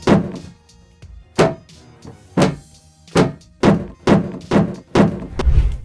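Cartoon-style foley bumps for a head-banging scene: about nine dull, hollow thunks land in an uneven rhythm, close and fairly loud, with no voices.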